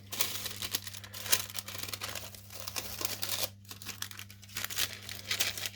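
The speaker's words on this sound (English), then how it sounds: "So then if we come across to the other side, remove the tape." Masking tape being peeled off a model aircraft cowling, a series of close crinkling tears and sticky rips in short bursts over a steady low hum.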